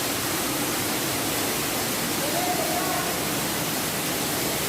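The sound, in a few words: waterfall in a cave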